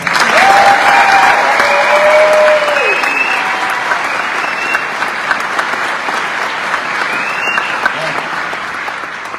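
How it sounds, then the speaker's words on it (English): Graduation audience applauding loudly and steadily, a dense wash of clapping with a few whoops and a brief tonal whistle over it, tapering slightly toward the end. "do we give all of them a round of applause?"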